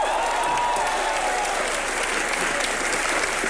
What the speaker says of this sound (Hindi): मिस्टर इंडिया के लिए तालियां बजाएं